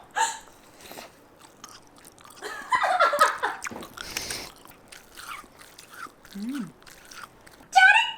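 Close-up chewing of a soft, spongy, syrup-soaked rasgulla, with squeaky, squelchy bites in bursts, quiet pauses between and a short vocal sound midway.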